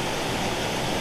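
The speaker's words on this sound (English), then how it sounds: "That is one impressive waterfall, isn't it?" The Cascade on Falls Creek, a tall waterfall along the Blue Ridge Parkway, pours in a steady, dense roar that fills the whole second with broadband rushing water and no break.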